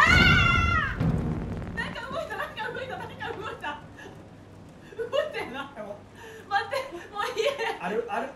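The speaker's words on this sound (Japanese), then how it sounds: "猫、ブラックキャット。" A black cat meows in the video game Detroit: Become Human with a clear, close, rising cry at the start, followed by people chatting and laughing over game sounds.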